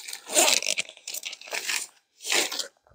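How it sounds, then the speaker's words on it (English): Zipper on a heavy-duty bag for a Gazelle T4 Overland Edition pop-up tent being unzipped in several short rasping bursts with brief pauses between, close up with no talk. "let's unzip this heavy duty bag and see what's inside"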